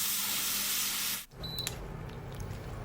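Water splashed into a pan of stir-frying snow peas gives a loud, steady steam-like hiss, then a sudden drop and a quieter, crackling sizzle.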